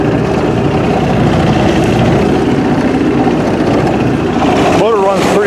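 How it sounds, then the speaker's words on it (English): An Evinrude 25hp two-stroke twin tiller outboard running on the water, a loud steady buzzing drone throughout, with a voice briefly speaking near the end. "Motor runs pretty rough when it comes off of a pull."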